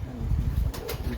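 Flying pigeons kept by a fancier flap their wings close by in a short flurry, with soft fluttering and a couple of quick wingbeat bursts over a low rumble.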